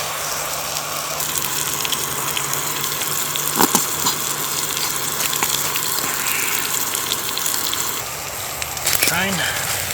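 Beef steaks fry on a camp stove at a stealth campsite behind a liquor store near a railway, giving a loud, continuous hiss and sizzle with a few brief clinks.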